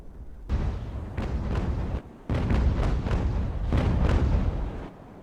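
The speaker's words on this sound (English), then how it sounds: "Tremor again, shooting across Trident with her grape shot." Naval cannons aboard sailing warships fire grape shot in the age-of-sail battle game Ultimate Admiral: Age of Sail, a dense run of loud, overlapping booms that rumble continuously with only brief gaps.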